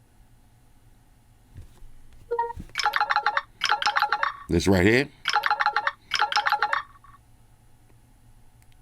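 A Nothing Phone 3 ringtone plays in a series of rhythmic, chiptune-style electronic bursts, including a descending warble in the middle, loud and close. Someone speaks briefly just before it starts.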